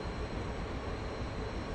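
A Sukhoi Su-27 jet in a flight simulator roars with afterburners lit, a steady, dense, broadband rumble heard from the cockpit, constant and unbroken.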